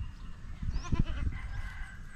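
Goat bleating just after giving birth, a few short strained calls rising over steady background noise and low rumble, fairly close, with no talk.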